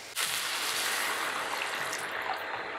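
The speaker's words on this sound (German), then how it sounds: "Und gießen es jetzt mit einer warmen Gemüsebrühe ab." Warm vegetable broth poured over pumpkin risotto rice, a continuous close splashing pour and bubbling sizzle that starts suddenly and carries on steadily to the end.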